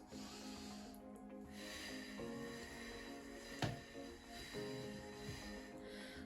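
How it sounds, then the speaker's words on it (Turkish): Faint, deep breaths drawn in and out during a post-COVID breathing exercise, a soft airy hiss with a brief snort-like inhale near the middle. "Daha sonra nefes alıyoruz"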